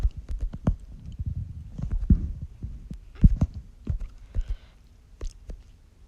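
A vehicle in the off-road driving game Off-Road Outlaws revs and launches with a boost, giving heavy rumbling engine bursts and throbbing low thumps in irregular surges, loud and close with no talking.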